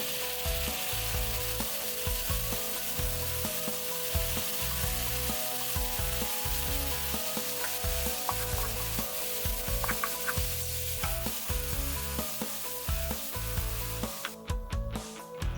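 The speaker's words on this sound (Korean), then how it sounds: "양파가 반투명해지면 발사믹 식초 3테이블스푼, 설탕 1테이블스푼을 넣어 졸여줍니다" Translucent onions with garlic, balsamic vinegar and sugar sizzling and reducing in a hot pan: a continuous close hiss with frequent stirring clicks and scrapes, turning briefly sharper near the end, with no voices.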